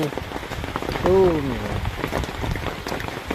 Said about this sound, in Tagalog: malakas lang ang ulan dito guys